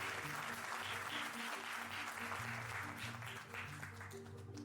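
An audience applauds steadily, a faint, even wash of many hands clapping that sits under sustained tonal music or background hum for the whole stretch.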